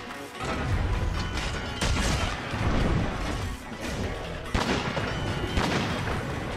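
Gunlance shells firing in Monster Hunter: World, heavy explosive blasts and mechanical clanks in bursts, loud and dense with layered impacts and booms.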